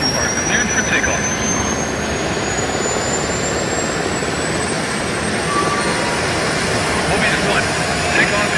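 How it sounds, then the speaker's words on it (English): A jet fighter roars continuously on takeoff in the video game Ace Combat, a loud steady engine rush with a rising whine, no talk heard over it. "Mobius 1, you are cleared for takeoff."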